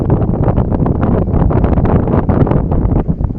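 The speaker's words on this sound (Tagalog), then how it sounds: "Lakas ang hangin pa naman dito." Strong wind buffets an outdoor microphone in stormy, rainy weather, a steady loud roar with continuous gusting rumble and no letup from start to finish.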